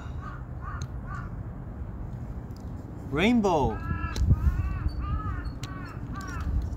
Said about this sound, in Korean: 지금 까마귀도 울고 있어요.